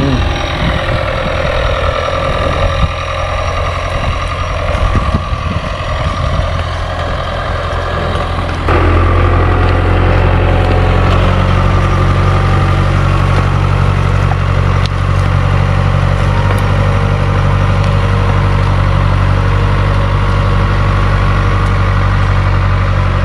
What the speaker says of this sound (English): the tractor go and do him thing, you know, plow it up